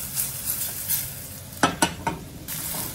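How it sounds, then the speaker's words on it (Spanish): Onion browning in a frying pan gives a low, soft sizzle, broken by a few sharp scrapes and knocks of a utensil stirring it. "Vamos a esperar que dore un poquito la cebolla."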